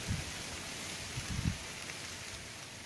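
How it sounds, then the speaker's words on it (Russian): Rain driven by strong wind outdoors in November: a steady broadband hiss of falling rain with low gusty rumbles and a few brief buffeting bursts, no voices. "У нас тут прям дождь с ветром"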